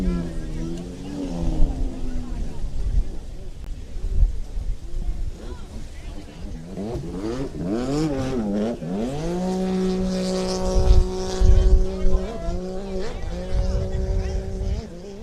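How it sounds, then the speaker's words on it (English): Personal watercraft engines idle and rev at a Pro-Am Ski GP world championship race in Naples, Florida, a steady mechanical drone with rising whines under continuous announcer commentary. "Oh, Paul, you hear those mean engines idling up here for this next class."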